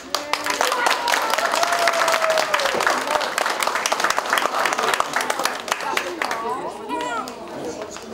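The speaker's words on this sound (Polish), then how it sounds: "Myślę, że należą im się naprawdę gromkie brawa." Audience applause for the performers at a June 2017 graduation ceremony held by a Polish children's school in Northbrook: sustained, dense clapping fills the hall, mixed with children's chatter and voices, thinning slightly toward the end.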